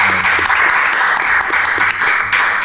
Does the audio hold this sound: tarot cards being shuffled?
no